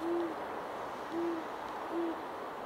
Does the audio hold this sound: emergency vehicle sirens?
no